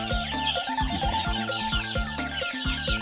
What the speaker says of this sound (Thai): อันนี้ไก่เดือนเดือนหนึ่งนะฮะ ฝั่งนี้อ่ะสองเดือน แต่ไว้ด้วยกันไม่จิกกันก็โอเคครับ